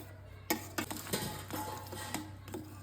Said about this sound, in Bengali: হলুদটা ভালোভাবে মিশিয়ে নিচ্ছি।